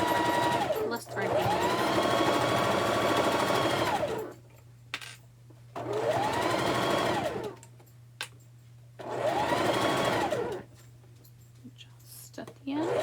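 A domestic sewing machine chain-pieces quilt fabric in three bursts of steady whirring stitching, each lasting a couple of seconds, separated by quiet pauses with soft handling noises and a faint hum.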